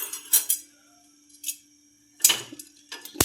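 Black pepper, cloves and cinnamon being roasted together in a pan give off scattered light clinks and scrapes as they are stirred, a few brief metallic taps separated by quiet gaps, close by and without speech.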